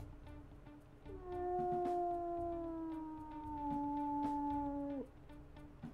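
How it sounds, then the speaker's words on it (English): A wolf pup's low howl in the video game WolfQuest: one long, steady, close tone that holds for about four seconds and dips slightly in pitch before it cuts off sharply, with no talk. "Nice low howl."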